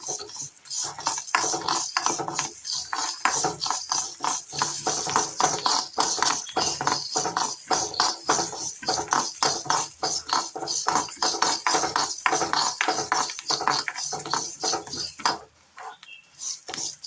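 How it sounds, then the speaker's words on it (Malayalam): Rice grains roasting in a pan are stirred briskly with a spoon, producing rapid rhythmic scraping and rattling strokes, close and loud, continuing without pause before ending abruptly near the end. "അരി ഒന്ന് പൊട്ടി തുടങ്ങിയിട്ടുണ്ട്"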